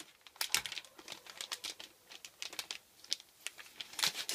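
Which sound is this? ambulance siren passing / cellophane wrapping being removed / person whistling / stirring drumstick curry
cellophane wrapping being removed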